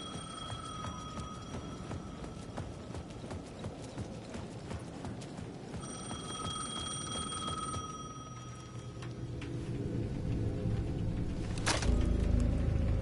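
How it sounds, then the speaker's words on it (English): A payphone at the edge of a plaza in the video game Alan Wake II rings repeatedly with a thin, steady electronic trill, half buried under a dense, rhythmic clatter and background noise that swells toward the end. "The payphone at the edge of the plaza was ringing again."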